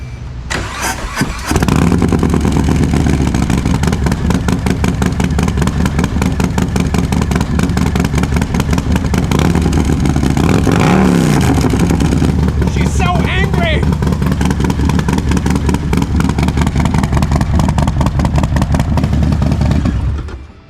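A Harley-Davidson Softail motorcycle fitted with a new stainless or polished Blockhead exhaust cranks and starts, then settles into a loud, steady, close-up rumbling idle with a slight swell in revs midway, while a person talks.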